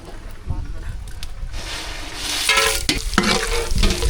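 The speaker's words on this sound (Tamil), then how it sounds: "நல்லா சூடாயிடுச்சு பட்டை வகையெல்லாம் சேர்த்துக்கலாம்" Cinnamon and other whole spices go into a hot pan for brinjal thokku, starting with quiet stirring and low rumble, then a loud close sizzle swelling in partway with scraping strokes over it.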